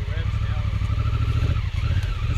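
An off-road Honda Africa Twin motorcycle engine putters and revs unevenly as the throttle is feathered, a close, rough, pulsing rumble running throughout, with people talking over it.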